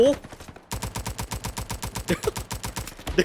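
Rapid automatic gunfire from an M4 rifle in the shooter game Frontlines, a loud, steady stream of close shots fired in a fast, even rhythm after a brief pause at the start.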